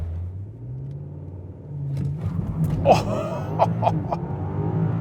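A new BMW M5 sits in a low, steady engine hum under launch control, then surges into a loud, rising roar as it pulls away hard, with a surprised exclamation from inside the cabin.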